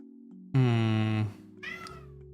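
A cat lets out a loud, drawn-out yell lasting under a second, followed by a shorter, higher meow, both close to the microphone over a low steady hum.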